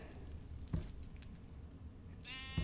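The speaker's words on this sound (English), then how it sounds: "Bunch of sheep here." Sheep bleat in the Minecraft video game, two short bleats nearly two seconds apart over a low steady game ambience, with no talking.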